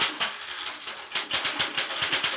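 A typewriter clatters in a scene from the film The Bitter Tears of Petra von Kant. Rapid, loud keystrokes strike in a dense, uneven rhythm close up, with no voices over them.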